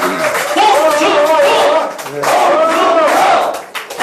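A political party gathering crowd shouts and chants in unison with scattered clapping, loud rhythmic voices swelling, dipping briefly, then rising again.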